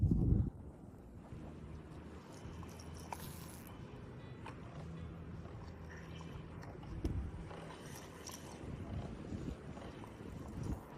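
Low rumbling wind buffets the microphone in gusts during an outdoor fishing trip, strongest at the start and again midway, over a faint steady background hum.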